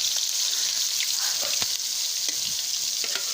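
Fish mixed with onion frying in hot oil, a close, steady sizzle with a few stirring clinks, no voices over it.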